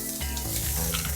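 Chopped onion sizzling in a drizzle of olive oil in a pan over low heat, a steady close frying hiss with crackling throughout.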